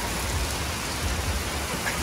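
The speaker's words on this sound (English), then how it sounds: "Another rainstorm just rolled in here." A rainstorm pours down steadily, giving a dense, even hiss of heavy rain with a low rumble underneath, close and constant with no talking.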